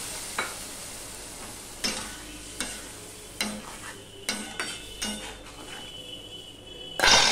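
Spice paste of coriander and chilli powder cooking with water in a pan for a Bengali fish curry, soft simmering under intermittent spoon scrapes and clinks against the pan, ending in a louder clatter.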